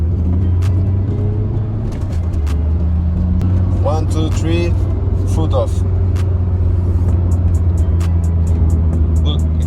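A car driving with faulty brakes that drag and slow it down gives a heavy, steady engine and road rumble throughout, while someone talks briefly partway through.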